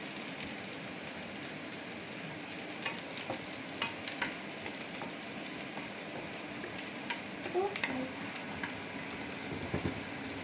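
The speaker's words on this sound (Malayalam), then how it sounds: "ഇത് എത്ര നേരം വേണം നമുക്ക് ഫ്രൈ ചെയ്യേണ്ടത്?" Food sizzles and crackles steadily in a pan at home, with occasional stirring scrapes and small pops, fairly quiet and with no talking.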